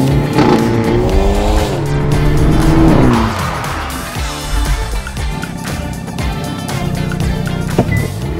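A Hyundai N car performs a launch control start, engine revving high and steady before the gearshift, then tires squeal as it accelerates hard and the engine note climbs again through the gears, loud and close with no talk.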